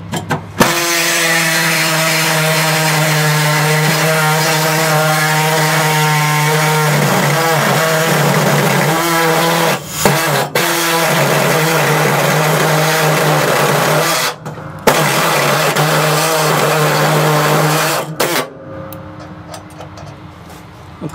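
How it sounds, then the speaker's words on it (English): A power tool with a cutting wheel bites into sheet metal on a Ford F100 cab mount and floor pan: a loud, steady, close whine that dips briefly twice, then cuts off near the end. "Cutting into this metal"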